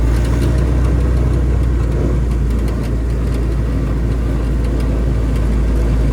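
A 1952 Willys M38 Jeep engine runs loud and steady, a continuous low drone with a rough, throbbing texture and no talk.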